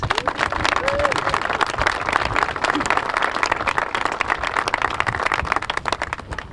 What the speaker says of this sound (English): Share with me another round of applause.